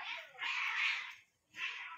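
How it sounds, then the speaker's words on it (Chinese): A feral cat lets out a long, drawn, wailing meow, then a shorter second cry after a brief pause, faint and close with no talking. "野猫"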